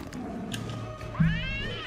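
A pet cat in the video game Wizard101 gives a single rising meow near the end, close and clear over steady game background sound.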